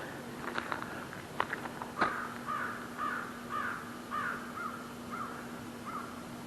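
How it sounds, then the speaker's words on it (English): Crows cawing in the Maine woods, a series of about eight evenly spaced caws at moderate distance, preceded by a few sharp clicks or snaps, over a quiet outdoor background with a steady low hum. "The boisterous crow songs."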